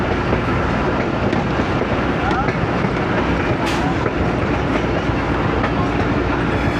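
The 122DN Ravi Express rolls along rails on the Shahdara–Sangla branch line in Pakistan, a loud, continuous rumble and rattle heard from on board as the train takes a curve.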